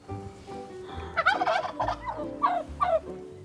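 A turkey gobbles close by in several rapid bursts of warbling calls over a low background hum, with no voices.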